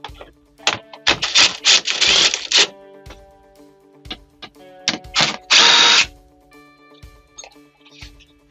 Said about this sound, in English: We're now going to remove these two 10 millimeter bolts that hold the panel on